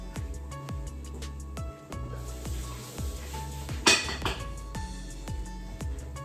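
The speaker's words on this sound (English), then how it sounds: "you can see the water is boiling, so we're gonna add these penne noodles" Dry penne noodles dropped into a pot of boiling water, heard as a rapid run of hard clinks and taps against the metal pot, with a brief louder rattle partway through.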